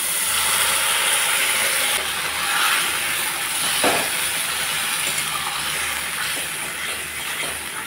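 Spice paste hitting onions and potatoes frying in hot oil sets off a loud, steady sizzle that hisses on without a break throughout.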